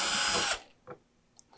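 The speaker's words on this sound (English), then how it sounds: "I'm just going to take my drill, and I'm going to drill a hole through the cardboard" A power drill bores a hole through the cardboard and plastic liner of a car glove box, giving a loud whirring burst about half a second long that cuts off, followed by a few faint clicks.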